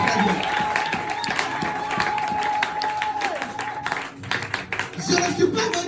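Church seminar congregation applauding and cheering for Jesus, a steady wash of clapping and crowd voices with a held tone running through it, briefly thinning before rising again.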